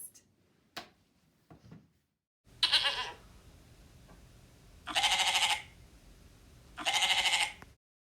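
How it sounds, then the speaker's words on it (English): A goat gives three loud, drawn-out bleats, evenly spaced, after a few soft clicks at the start. The farm animal sounds out alone with no talking. "I hear a goat."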